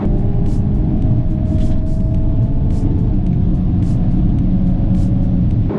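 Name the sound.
Hyundai Kona N and Mazda3 Turbo GT drag racing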